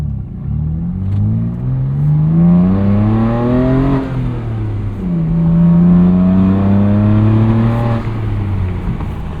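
A 2021 BMW M2 Competition with a six-speed manual and aftermarket exhaust revs up through the gears, pitch climbing then dropping at each shift, loud and close with a throaty exhaust note.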